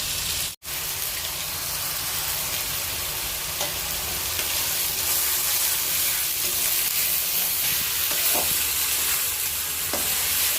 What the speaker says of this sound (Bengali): এবার ধনেপাতা বাটা আর পেঁয়াজটা মা একসঙ্গে কষিয়ে নেবে।